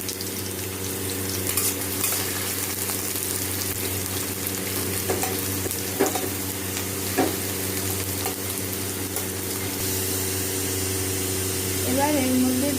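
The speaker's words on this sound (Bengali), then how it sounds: "দিয়ে পেঁয়াজগুলো হালকা গোলাপি করে একটু ভেজে নেব।" Large chopped onions fry in hot oil with a steady, close, continuous sizzle and a few crackling pops, under a low hum from a kitchen appliance, with no talking.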